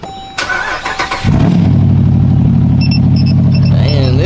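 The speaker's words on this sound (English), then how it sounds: "Do a little cold start." A Jeep cold start: a brief cranking whir, then the engine catches and settles into a loud, steady, close idle.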